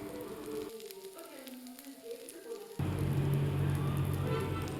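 Steady, close sizzling of masala-coated fish frying in hot oil, growing louder and denser partway through, with no talking.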